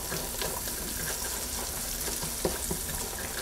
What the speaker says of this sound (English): Take your time with caramelizing onions.